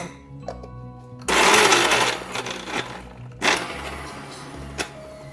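A mixer grinder pulses roti chutney in its jar, with a loud whirring burst after a quiet start, then choppy grinding with short sharp spikes and rattles.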